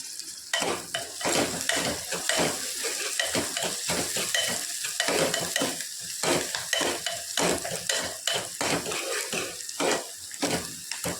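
Onions fry and sizzle in a pan while a spoon stirs them in steady, repeated scraping strokes, loud and close with no talk over it.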